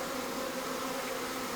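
A calm honeybee swarm clustered on branches gives off a steady, even hum, close to the ear and faint, unbroken and without voices.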